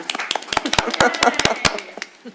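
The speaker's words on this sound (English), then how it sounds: "That was a big applause from me too" A few people clap at a city council meeting, irregular sharp claps that are fairly close and scattered, with talking throughout.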